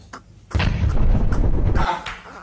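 A heavy bomb explosion in a video game, a sudden loud boom followed by a sustained rumbling roar lasting over a second before it fades.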